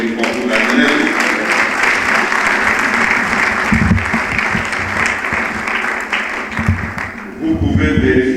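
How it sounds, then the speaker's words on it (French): A crowd at a political party rally applauds loudly, a dense continuous wash of clapping with brief louder bursts and voices mixed in underneath. "Il faut applaudir encore une fois pour la jeunesse."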